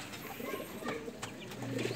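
Soft, low coos from young pigeons repeat through a steady background hum, with a few faint higher bird chirps mixed in.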